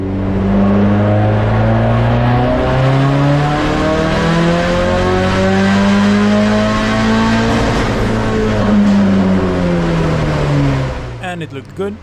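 A 1.6L turbocharged Mazda Miata drift car engine on a dyno at 0.8 bar wastegate boost, revving in one loud, sustained climbing pull with shifting harmonic tones for about eleven seconds before abruptly cutting off.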